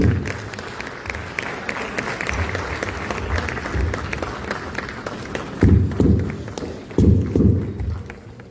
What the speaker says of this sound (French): Il est permis de les applaudir, puisque nous les accueillons.